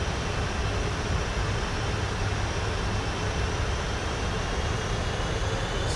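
A Boeing 747-400 in a flight simulator game drones on final approach, a steady, loud broadband engine and airflow roar with no change in level throughout.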